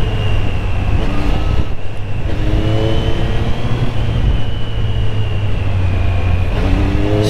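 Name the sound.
Triumph Street Triple 765 R motorcycle engine revving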